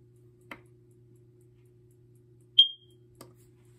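A BRK First Alert SC9120B smoke and carbon monoxide alarm is reset. Between faint button clicks it lets out a single short, sharp, high chirp over a quiet low hum.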